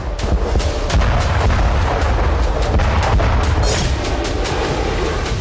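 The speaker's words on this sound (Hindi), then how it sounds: "वॉर ग्राउंड में होते ये धमाके, ये तबाही" Heavy booms and blasts of artillery fire in the Russia-Ukraine war roll continuously, loud and overlapping, with sharp cracks punctuating a dense rumbling background.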